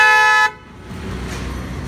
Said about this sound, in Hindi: स्कोडा टाइप का हॉर्न